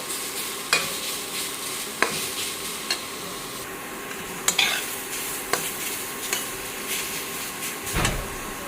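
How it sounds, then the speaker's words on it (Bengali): Grated carrots for carrot halwa are stir-fried in hot oil, giving a steady close sizzle with a spatula repeatedly scraping and tapping the pan at a loose, regular rhythm. "গাজরটা তার জন্য দিয়ে দিলাম একটু নেড়ে বেজে নেবো"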